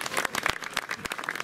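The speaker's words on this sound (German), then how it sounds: "da bitte ich jetzt einfach mal um einen Beifall für den Verein" Applause from a crowd at a maypole-raising festival in Garmisch-Partenkirchen, given in thanks to the organising club: dense, steady clapping from many hands, fairly close and continuous throughout.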